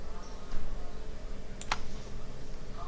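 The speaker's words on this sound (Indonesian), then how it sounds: "Tekan tombol, klik dulu baru tekan shift pada keyboard." Computer keyboard keys pressed and a mouse clicked during drawing work: a few light, scattered clicks with one sharper click near the middle, set against a steady low background hum.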